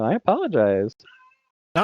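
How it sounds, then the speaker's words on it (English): A pet cat meows in a home setting, a few close, loud, drawn-out rising and falling calls right next to a speaking person, with a short faint trailing sound between them. "That's my cat. My cat says hi."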